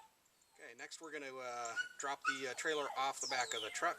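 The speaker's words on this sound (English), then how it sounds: "Apologize for the dog whining in the background." A dog whines and yips in high, wavering cries close by, almost continuous, while someone talks over it.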